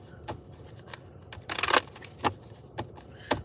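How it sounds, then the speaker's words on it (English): Tarot cards shuffled by hand in a series of crisp riffles and snaps, one denser burst in the middle, close up in a quiet room with faint background hum. "while I'm shuffling"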